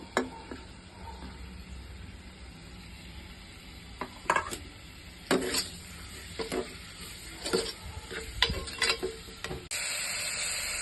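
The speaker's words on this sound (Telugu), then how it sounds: "కొంచెం ఆయిల్ వేడెక్కాక ముందుగా తరిగి పెట్టుకున్న పచ్చిమిర్చి, ఉల్లిపాయలు వేసుకొని దోరగా వేయించుకోవాలి." Chopped green chillies and onions fry in hot oil, a gentle sizzle under repeated scraping and clanking of a spoon stirring against the pan, close and moderately loud, ending with a sustained hiss.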